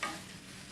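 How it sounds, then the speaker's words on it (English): Ground beef browning in a pan, a soft steady sizzle with stirring scrapes, faint and brief. "So we're browning the beef"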